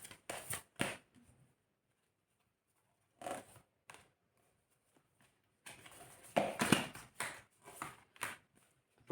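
Tarot cards being shuffled during a reading, heard as several separate bursts of quick riffling and flicking, close and moderately loud, with quiet pauses between them and no talking.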